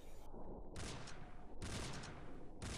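Bursts of gunfire in the shooter game Drake: dense, loud volleys that start and stop abruptly several times in under three seconds, with no voices.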